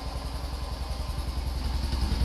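A microcar's small engine idles near and steady, with a rapid, even low putter pulsing throughout and a faint clattery mechanical rattle over it.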